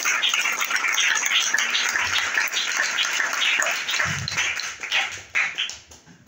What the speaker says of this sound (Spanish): Aplaudan al Señor en esta mañana.